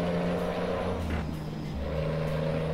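An American Truck Simulator truck engine idles and runs with a steady low droning hum and faint higher whine, its pitch shifting slightly partway through, with no talking.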